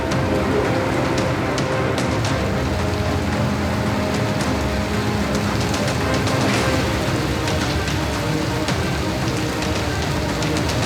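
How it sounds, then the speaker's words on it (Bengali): Heavy rain pours steadily during a storm with gusty wind, a dense, loud, continuous wash of drops hitting surfaces throughout, with no thunder distinct and no voices. "আজ দুপুর থেকে যে তুমুল বৃষ্টির সঙ্গে ঝোড়ো হাওয়া এবং ঘন ঘন বজ্রপাত।"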